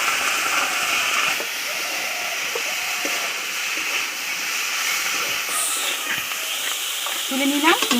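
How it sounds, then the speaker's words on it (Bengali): Prawns coated with salt, turmeric and chilli powder fry in hot oil, giving a steady, close sizzle with stirring scrapes running throughout and a brighter crackle near the end. "আমি চিংড়িটা তেলের উপর দিয়ে দিচ্ছি।"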